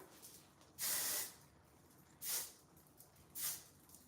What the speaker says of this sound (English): Try not to spray it in your eye.